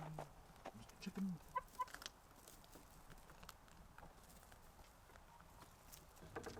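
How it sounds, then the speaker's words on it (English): A rooster in a chicken coop gives a few faint, brief clucks among quiet background rustling and soft scattered knocks, heard distantly with no talking. "Oh, big rooster."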